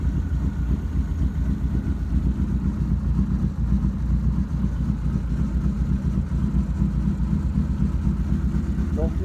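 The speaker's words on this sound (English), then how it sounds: "She's got a real low idle." A car engine idles low and steady right after a start, giving a dull, loping rumble throughout. A voice is mixed faintly over it.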